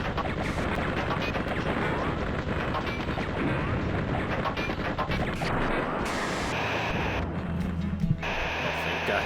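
Cannon fire in the flight sim Fighters Anthology, a dense continuous roar of rapid bursts and crashing booms, loud and noisy throughout with faint shifts near the end.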